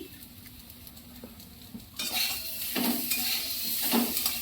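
Eggplant and tomato with salt and turmeric are stirred in a pan. A quiet simmer gives way to louder sizzling and repeated scraping strokes of a utensil against the pan.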